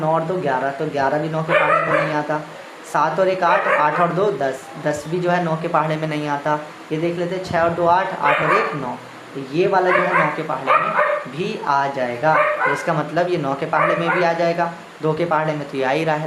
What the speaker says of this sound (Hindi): सॉरी फॉर नॉइज़ के यहाँ पे कुत्ते भौंक रहे हैं